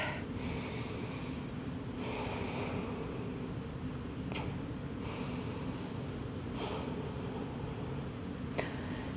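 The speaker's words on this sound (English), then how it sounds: "In through the nose, out through the mouth with that breath." Slow breaths in through the nose and out through the mouth during a Pilates chair workout, rising and falling in soft, even cycles over a steady background hiss, close but quiet.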